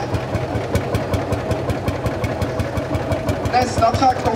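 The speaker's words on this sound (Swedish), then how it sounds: "Och då använder man ratten faktiskt för att starta traktorn." Vintage tractor running after a hand-crank start at a Swedish tractor parade, its engine thumping in a steady fast rhythm, loud and close, with people talking over it.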